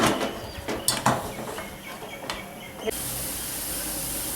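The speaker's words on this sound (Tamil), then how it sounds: "ஸ்டீம் வந்துருச்சு." A pressure cooker on the stove while making Asoka halwa: a few clicks and clatters, then a steady, loud hiss of steam starting abruptly and continuing alone, close by.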